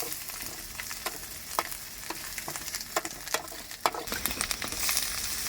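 Ingredients roasting in a pan on a lorry cooking setup, giving a steady close sizzle broken by sharp crackles and pops, with no talking.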